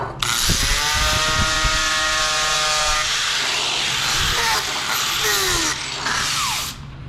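Sanding pad working across the edge of a metal part, a loud, close, whirring power-tool grind that rises and falls in pitch as the pad moves, continuing for several seconds without speech.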